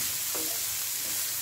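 Onions browning over high heat for a jackfruit korma give a steady, close hiss of frying that fills the whole clip, with a brief faint scrape partway through and no talking.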